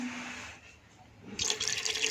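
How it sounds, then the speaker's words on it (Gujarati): Water is poured into a pot of melting jaggery for a traditional semolina lapsi made with ghee, giving a brief splashing burst near the end that follows a quieter trickle. "પાણી બીજું એડ કરીશું"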